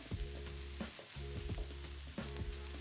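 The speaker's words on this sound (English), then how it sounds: "just add some of my rice on top, give it another stir" Egg fried rice sizzles steadily in a hot pan while being stirred, with scraping strokes of a utensil repeating every second or so over a constant close frying hiss.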